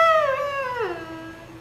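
A single voice imitates a passing car horn's Doppler shift, holding a high, nasal tone that swoops down sharply in pitch as it goes by, then settles on a lower held note, close and fairly loud.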